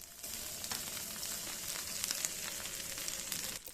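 Par-cooked potato rösti frying in butter in a pan, giving a steady, close sizzle with faint crackles and pops throughout, heard alone without talk.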